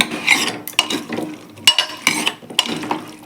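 Beetroot pieces being stirred in a sambar pan, loud close scraping and clanking of the ladle in several quick bursts over a faint sizzle.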